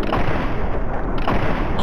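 Gunfire from a shootout in Fallout 3, a steady dense barrage of shots and booms filling the whole stretch at a loud, close level with no pause.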